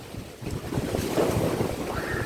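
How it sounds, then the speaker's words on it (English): Steady wind buffets the microphone outdoors in a garden, a continuous low rumbling roar with gusts swelling slightly in the middle, no voices. "It's very windy over here."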